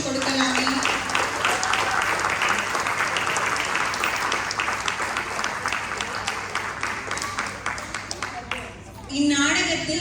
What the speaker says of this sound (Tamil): அவர்களுக்கு ஒரு பலத்த கரகோஷம் கொடுக்கலாமே